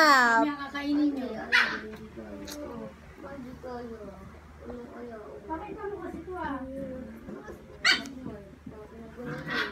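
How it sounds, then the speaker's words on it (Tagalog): A playful puppy yips, whimpers and gives short high barks in uneven bursts while being played with, close by, as people talk and laugh over it. "Walang magawa, nilalaro na lang yung tuta."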